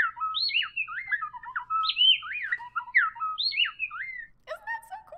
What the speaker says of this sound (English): That's a black-bellied wren, I believe. And that bird has a little duet that they sing together